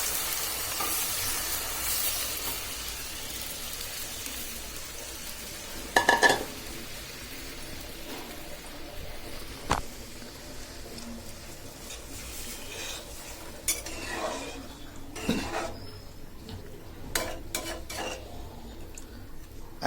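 Tomatoes, beans and spice mix sautéing in a pan with water, a low soft sizzle under scattered clinks and scrapes of a spoon against the pot, with a louder clatter early on.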